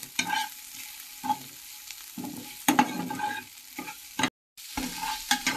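Onions frying in a pan with ginger-garlic paste, with intermittent bursts of spatula stirring and scraping over a soft sizzle, close by and with no talking.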